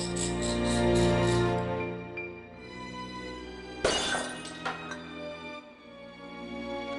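A glass display cabinet shatters in the Discworld Noir game, first as a bright ringing sweep and then as a sharp crash with scattered tinkling shards that trail off, loud and without speech.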